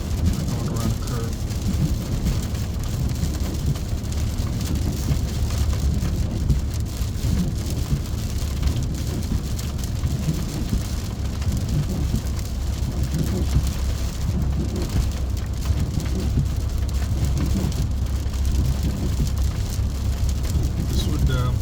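Heavy rain drums steadily on a 2021 Ford F150 Powerboost while it drives, a dense continuous roar of drops on the roof and glass with low road rumble underneath. Muffled voices are faintly present in the cabin.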